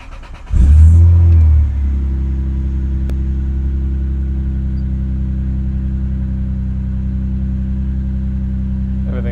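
A Toyota Supra MkIV engine cranks and fires up with a loud burst of revving, then settles into a steady, rumbling idle close by, on its first start after a gearbox oil change.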